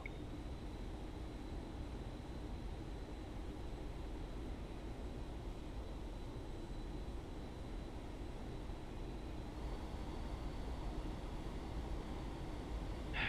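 The A-4E Skyhawk jet engine in DCS gives a steady, faint, broadband roar from the cockpit. It swells slightly as the throttle is pushed up late on, with no talk over it.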